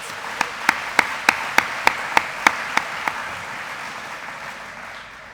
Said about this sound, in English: Just another round of applause to all of our athletes here tonight.